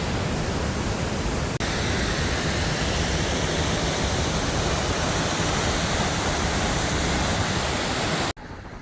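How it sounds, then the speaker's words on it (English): A waterfall in Scotland roars as a dense, steady rush of falling water heard close and loud, broken by a short dip partway through and a sudden drop in level at the very end. "some really nice waterfalls."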